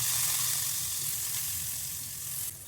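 Cleaned dried fish pieces frying in a pan with chili and onion, a continuous dense sizzle heard up close with no talking.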